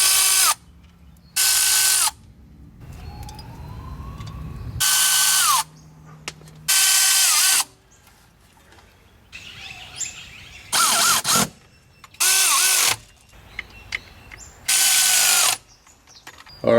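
Ratchet clicking and power-tool bursts while car gearbox mounts are unbolted, several loud whirring runs of a few seconds each broken by quieter ratcheting and metal clinks, close by with no talk.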